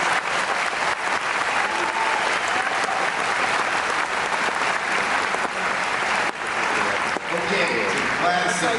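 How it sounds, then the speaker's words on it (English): Graduation audience breaks into sustained applause for veterans in a large hall, a thick even wash of clapping lasting nearly nine seconds with scattered voices and faint cheers mixed in. "Let's have a round of applause"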